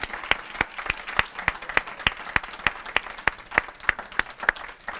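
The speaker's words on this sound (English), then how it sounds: "Could we please have one more round of applause for all of our presenters?" A school audience gives one more round of applause for student presenters at a spring tribute speech event; the sound is sparse, evenly spaced sharp claps, fairly faint, with a steady rhythm.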